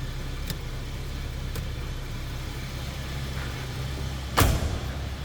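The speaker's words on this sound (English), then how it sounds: "Door closes nicely." A 1980 Oldsmobile Toronado door shuts with a single solid thump late in the moment, over the steady low hum of the idling engine, with a couple of faint knocks earlier.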